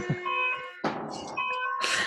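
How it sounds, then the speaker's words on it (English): An unidentified building alarm sounds with steady tonal beeping and a sustained ringing tone, fairly loud and continuous, with brief noisy bursts breaking through. "But I guess if I have no idea what that alarm is."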